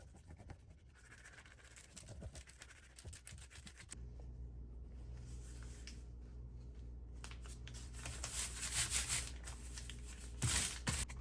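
Scissors cut roughly through paper and card for a handmade junk journal, giving close, steady rubbing and snipping scrapes over a low background hum, with a brighter burst of cutting near the end.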